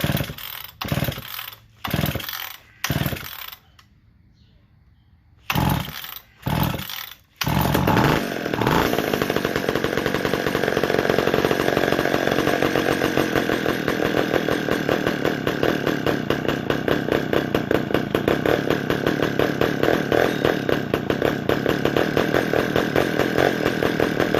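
A McCulloch 10-10S chainsaw engine starved for fuel sputters through several short bursts with brief cutouts, then catches and runs steadily at a loud, constant drone close by.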